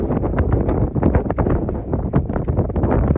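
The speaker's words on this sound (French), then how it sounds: "il y a beaucoup de vent, donc on va essayer de faire en sorte qu'il ne perturbe pas la bande son" Wind buffets the microphone in loud, rough, uneven gusts, a constant rumbling roar with no voices.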